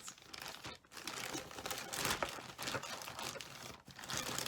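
Plastic bags holding cross-stitch whips crinkle and rustle continuously as they are handled up close, a dense, crackling texture with brief pauses and bursts of louder crumpling.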